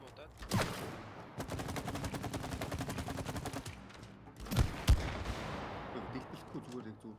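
Rapid video game gunfire from It Takes Two during a toolbox boss fight, a dense stretch of repeated shots with a couple of louder blasts near the end, while people talk over it.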